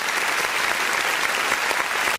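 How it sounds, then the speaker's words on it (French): Steady, full applause from a crowd at a football broadcast for a talented player's goal in a Rennes versus Guingamp match, continuous and even before cutting off abruptly at the end. "Les applaudissements."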